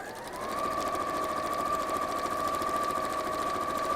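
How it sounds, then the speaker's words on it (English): A sewing machine runs steadily for about four seconds, stitching along a dotted line to make a fabric bag, with a constant whirring hum and no talk. "I'm going to sew again, starting from that dotted line just outside"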